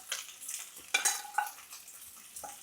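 Mutton fried in a pot for biryani, with a close, steady sizzle and a spoon scraping and stirring against the metal in several distinct strokes, and no talking.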